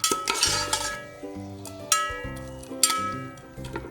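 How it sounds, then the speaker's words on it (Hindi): Sliced onions hit oil in a pot, with a brief sizzle and repeated metal clinks and scrapes as a utensil stirs them. "प्याज डाल दिया इसमें, अब हम इसको फ्राई करेंगे"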